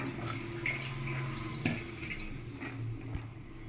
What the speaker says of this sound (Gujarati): એક ચાયણીમાં પહેલાં આને નિતારી લેશું